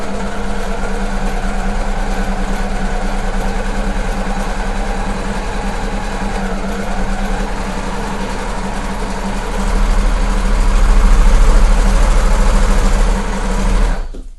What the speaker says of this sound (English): I've now sewn those two layers of fabric together using just a neutral differential feed